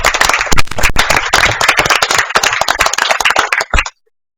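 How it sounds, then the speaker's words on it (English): Audience at a Sherwood city council meeting breaks into loud, close applause, dense hand claps with a few sharper cracks, running steadily for nearly four seconds before stopping abruptly. "he deserves a round of applause right now"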